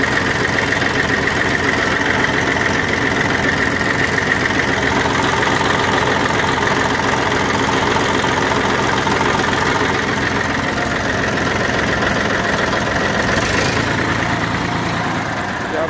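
A 1993 Massey Ferguson 1035 DI tractor engine idles with a continuous close, loud diesel rumble and clatter, steady for the whole stretch.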